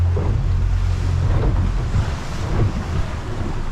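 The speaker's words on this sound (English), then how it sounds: "There's a lot of south in this wind today." Strong wind blowing over open ocean from a small fishing boat, a constant loud rushing roar buffeting the microphone, with waves and water noise underneath.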